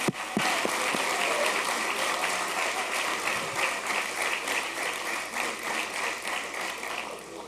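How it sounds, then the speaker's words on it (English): Audience applause fills a room at a police promotion ceremony, a sustained wash of many hands clapping that stays steady, then eases slightly toward the end. "let's give him a big round of applause."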